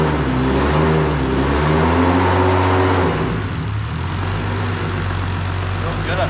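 A fully built Nissan Skyline R33 engine runs close by with a deep, steady idle, then its note drops and turns rougher for the final seconds.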